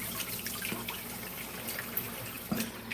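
Tap water running steadily as peeled hard-boiled eggs are rinsed, a continuous close splashing and trickling with a few small knocks, and no voices.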